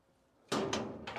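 A metal barn door on a dump trailer swings open with a sudden loud clank and rattle, followed by a second clatter, heard close up.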